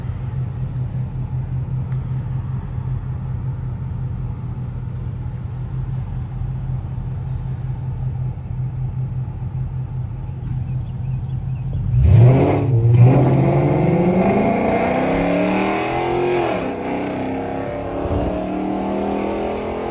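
A 2008 Dodge Charger R/T accelerates hard: a steady low engine drone gives way around the twelfth second to a loud, rising roar with climbing revs, then settles to a strong sustained rumble.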